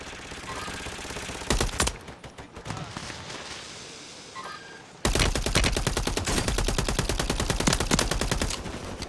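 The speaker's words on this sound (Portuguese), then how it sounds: "é um tiro aí" Rapid bursts of automatic gunfire from a squad-based shooter video game, a short volley then a long sustained stream of shots, loud and dense.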